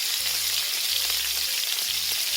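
Steak frying with butter and garlic in a de Buyer iron pan, a loud, dense and continuous sizzle heard close up with no talking.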